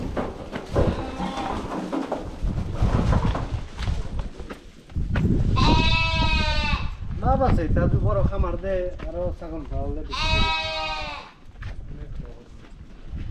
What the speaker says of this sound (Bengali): তার পাশে শুধু ছাগল আর ছাগল দে